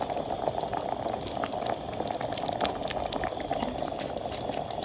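Radish greens cook in a pan, a dense continuous bubbling and sizzling with scattered sharp pops, close and steady throughout.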